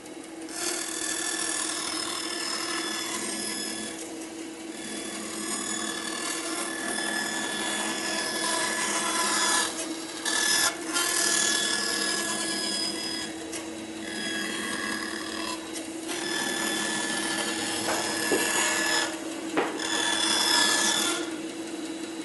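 A bandsaw fitted with a circle jig cuts a wood circle, giving a steady, close, loud whine and rasping buzz that runs throughout, with brief dips as the workpiece turns and no talking.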